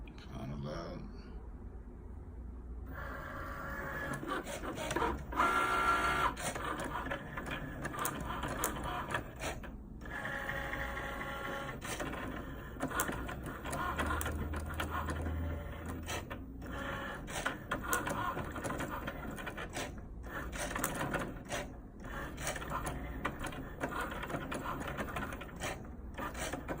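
A Cricut Maker cuts vinyl for a T-shirt design, giving a continuous mechanical whirring and clattering with irregular bursts and pauses that sound like a printer, while a voice talks at times over the machine.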